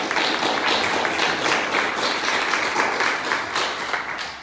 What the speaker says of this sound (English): can I please get a round of applause for our panelists?